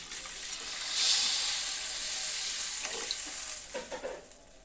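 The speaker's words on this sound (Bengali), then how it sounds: "এখন আমি ঝোলের জন্য জল দিয়ে দিব।" Water pours into a pan of frying pumpkin for a fish curry, swelling into a loud hissing sizzle that slowly settles into bubbling and light stirring, close up and without speech.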